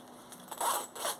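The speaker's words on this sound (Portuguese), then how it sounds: "agora é só abrir aqui o zíper" A zipper on a sewn cushion cover is pulled open in one short, quiet scraping run with a couple of small bursts, close up and heard alone.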